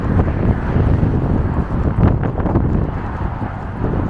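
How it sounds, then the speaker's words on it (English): Strong wind at a 10k running race in Beverley buffets the microphone with a loud, continuous low roar and surging gusts throughout. "Sun's come out, which is nice, but it's so windy"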